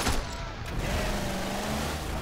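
A car engine in the video game Crackdown on Xbox 360 roars with a dense, continuous rumble, loud and close, with a brief louder burst at the start.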